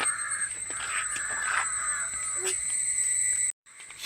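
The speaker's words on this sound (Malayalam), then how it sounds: "കാക്ക പറന്ന് പോണു." A crow caws near a coconut grove, several harsh, loud calls repeating over about three seconds against a steady background hum, then a brief dropout.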